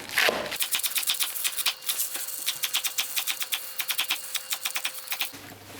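Knife chopping vegetables for Portuguese caldo verde soup on a cutting board, a quick, steady run of sharp close-up taps that goes on for several seconds without talk.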